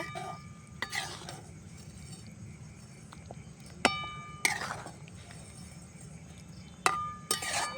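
Achari paneer being stirred in a pan in a homemade village kitchen after the lid comes off, with a few sharp metallic clinks of a utensil against the pan scattered over a low steady background hum.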